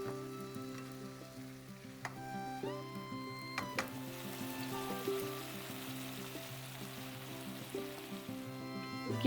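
Tomatoes for chutney sizzle steadily in a pan, a continuous close crackling hiss with a few stirring clinks. No one talks, and a faint tonal background hum runs underneath.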